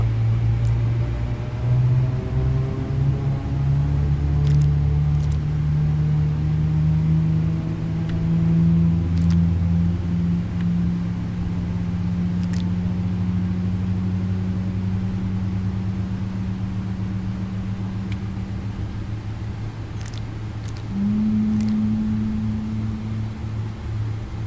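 Boeing 777-200ER jet engine spooling up at start in the X-Plane 12 flight simulator: a steady, loud rising whine and drone that holds and climbs throughout, with a second higher tone joining near the end.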